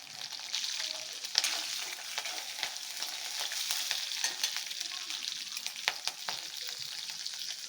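Ginger and slit green chillies frying in a pan for bonda soup, a faint, steady sizzle with occasional crackles and light stirring.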